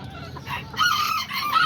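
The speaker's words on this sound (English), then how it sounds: "Those little chickens with the little black face azteca rooster." An Azteca rooster, a small black-faced chicken, crows loudly and close by in a single drawn-out cock-a-doodle-doo with a few clucks, and nobody talks.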